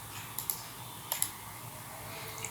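A few quick computer keyboard taps come in two brief pairs over quiet room hum, faint and close.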